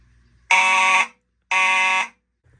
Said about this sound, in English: Alexa, activate fire alarm.